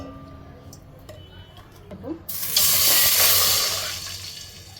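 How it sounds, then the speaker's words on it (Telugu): Water pours into a pot of basmati rice that already holds a spoon of oil and ghee, a sudden loud rush that swells and then eases, with a brief clink beforehand. "ఇప్పుడు వాటర్ వేసుకుందాం"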